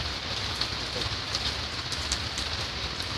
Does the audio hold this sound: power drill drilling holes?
no